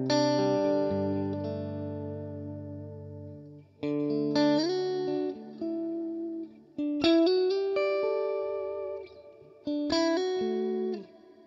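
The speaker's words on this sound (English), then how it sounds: "Let's stick the modulated reverb on here." Electric guitar played through a modulated reverb on a Quad Cortex unit, with sustained chords and ringing single notes in separate phrases, each trailing into shimmering, wavering reverb tails.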